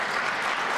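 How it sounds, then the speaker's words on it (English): Brief burst of dense audience applause at a civic anniversary event honouring planning department staff, steady and moderately loud. "I'd love to give them a round of applause."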